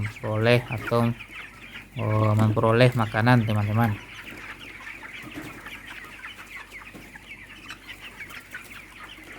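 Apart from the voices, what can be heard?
broiler chickens clucking in a coop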